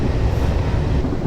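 Simulated passenger train running at a steady 85 mph in Train Simulator 2018, a continuous low rumbling roll with no voices over it.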